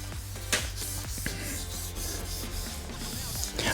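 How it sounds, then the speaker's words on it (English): A wet wipe is rubbed across the lid of a MacBook Pro, giving soft, close, continuous rubbing and swishing strokes. "So I'm just gonna give a nice wipe on the top."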